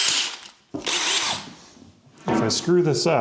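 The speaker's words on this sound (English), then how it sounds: "And then we'll drill that out." A power drill whirs in two close bursts, grinding into a handrail post, with a person speaking over the tool toward the end.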